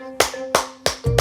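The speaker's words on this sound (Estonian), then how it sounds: "Siis on vaja natuke plaksutada." Hands clapping, four sharp, close claps at a brisk, even pace over a faint steady tone.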